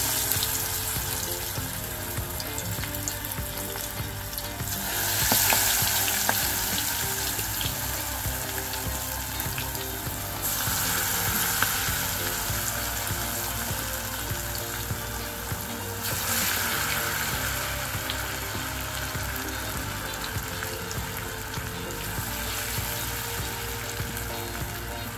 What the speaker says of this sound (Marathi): आता आपण हाताच्या सहाय्याने छोटे छोटे भजी सोडायचे।